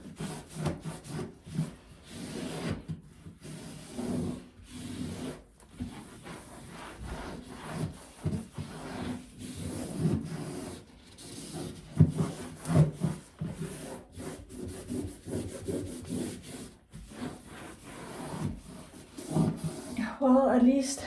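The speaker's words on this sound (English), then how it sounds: "I'm just gonna scrub on it" Steady rubbing and scraping of a brush scrubbing mold off a surface during a water-leak repair, rhythmic back-and-forth strokes that stay close and moderately loud throughout with brief pauses.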